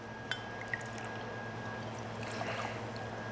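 Purple corn macerated liquid is poured, a quiet, steady trickle and splash over a low background hum, with a couple of small clinks and no voices.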